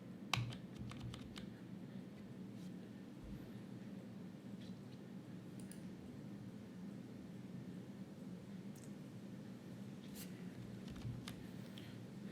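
Soft, close typing on a computer keyboard as code is entered, a run of light clicks with a few sharper key taps over a quiet hiss.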